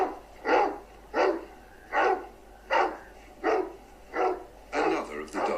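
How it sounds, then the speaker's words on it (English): A dog barks in a steady series of about seven evenly spaced, moderately loud barks, the last few coming quicker and closer together, with no talking. "To communicate with us, they learn to bark, a language the wolves can't speak."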